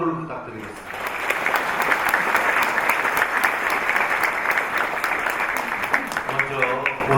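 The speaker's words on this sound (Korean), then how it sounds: "여러분 박수를 부탁드리겠습니다." Sustained applause from the audience at the inauguration ceremony of the 23rd president of the Korean Liberation Association, a dense, steady clapping that holds for several seconds with a voice coming in near the end.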